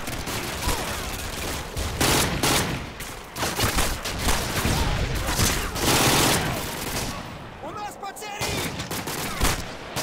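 Dense gunfire in the video game Call of Duty: Modern Warfare 2, with rapid overlapping bursts and heavy blasts filling the whole stretch, loud and close, and brief voices mixed in.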